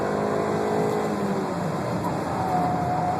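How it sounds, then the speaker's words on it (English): A formula race car engine accelerates hard down a racetrack straightaway, its rising whine climbing in pitch over a steady rumble of road and wind noise. "So we're hard on the throttle, obviously, coming down this straightaway."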